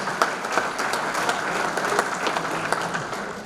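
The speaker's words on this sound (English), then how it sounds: "United Fiber, please give them a round of applause." Steady audience clapping at a sports hall of fame ceremony, a broad continuous patter of many hands with a few sharp nearby claps, easing slightly toward the end.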